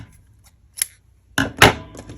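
Scissors cutting crochet yarn up close, a small snip followed by a louder, fuller double cut, alone without talk.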